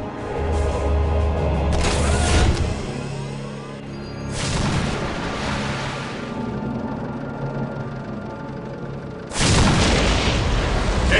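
Heavy weapons fire and explosions in a Warhammer 40,000 Dawn of War battle: three big booming blasts with rumbling tails spaced across the span, amid continuous crackling gunfire and clatter.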